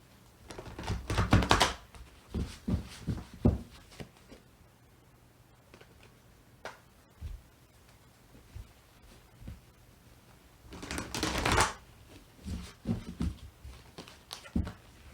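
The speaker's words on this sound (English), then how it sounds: "I'm being told to shuffle 3 times." Tarot cards are shuffled by hand during a reading, giving bursts of riffling and soft slaps in two main rounds separated by quieter taps and pauses.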